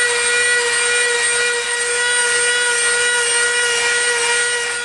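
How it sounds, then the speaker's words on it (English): Dremel rotary tool with a coarse bit grinding and rounding the edges of EVA foam, a steady high-pitched whine held continuously, loud and close, with no pauses. "we're going to dremel the edges and round them off"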